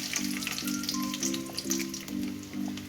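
Oil poured into a hot pan for a pumpkin leaf vegetable dish gives a soft, steady sizzle with faint crackles, heard up close and alone.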